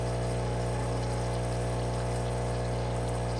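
A steady, droning pump hum with a low mechanical buzz runs continuously without pause, close and fairly loud, with a faint watery rush underneath, as a DeLonghi Stilosa espresso machine pumps descaler solution.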